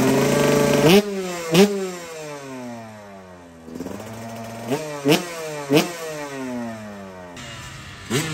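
A Honda Zuma scooter's small engine revs repeatedly in bursts, rising and falling pitch with sharp throttle blips, loud and close at an off-road racing event on a mountain course, no talking.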